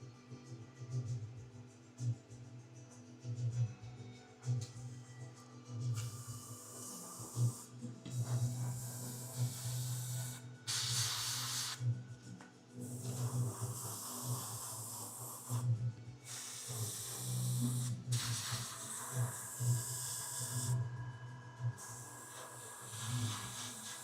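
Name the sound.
airbrush spraying paint on a miniature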